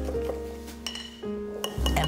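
A utensil clinks and scrapes against a mixing bowl while olive oil, salt and lemon juice are whisked together, with bright metallic taps over a low steady background.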